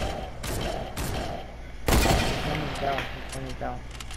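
Rapid gunfire in Fortnite, bursts of shots crackling in quick succession with a heavy blast midway, while a player's voice talks over the action.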